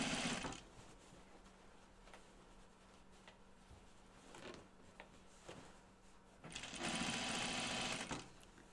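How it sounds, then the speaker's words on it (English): A sewing machine runs the last seam on a pair of shorts made from slacks, sewing just beside the elastic, with loud bursts at the start and end and a quieter steady stretch between, plus faint handling clicks. "sewing my last seam on the right side of the garment"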